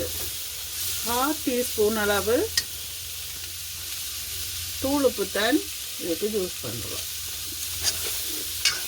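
Dried anchovy sizzles and crackles as it is stirred in a frying pan while a Sri Lankan dish is cooked. Bursts of frying noise come and go under a speaking voice.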